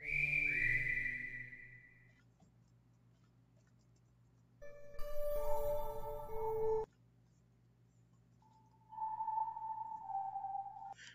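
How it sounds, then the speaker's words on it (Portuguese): A synthesized whistle preset sounds in three separate held notes with pauses between, the middle one brighter with buzzy overtones, smooth and electronic. "Eu queria um, um assobio suave."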